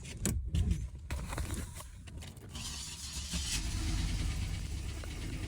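An LS V8 with a cylinder 7 misfire and collapsed-lifter noise idles with a low, uneven rumble after some handling clatter and key-like jingles, the engine sound rising and holding steady near the microphone.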